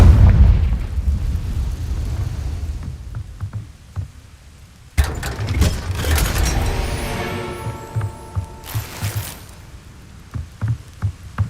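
Confringo explosion spell in Hogwarts Legacy, a heavy low boom fading out, then a fresh burst with crackling debris and sparkling tones, followed by scattered pops and thuds.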